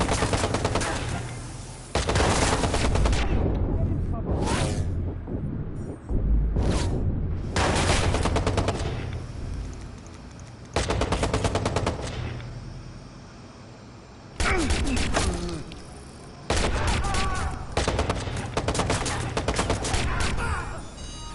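Enemy gunfire in the open-world game Watch Dogs, with loud, close, sustained bursts of automatic shots repeating in long volleys and only brief quieter gaps between them.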